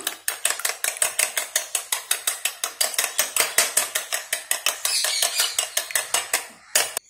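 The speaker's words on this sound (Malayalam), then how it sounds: "ഇപ്പോൾ മുട്ട നമ്മളിവിടെ നന്നായിട്ട് ബീറ്റ് ചെയ്തെടുത്തിട്ടുണ്ട്" Eggs seasoned with pepper powder and a pinch of salt are beaten briskly in a bowl, giving a fast, steady run of sharp clinking strokes that goes on for several seconds and then stops after a brief pause.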